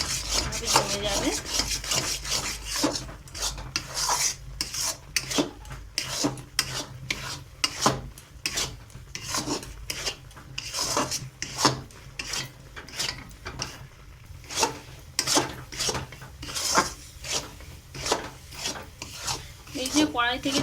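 A spatula scrapes and stirs a sticky rice naru mixture around a kadai, a long run of rhythmic rasping strokes close up at moderate volume.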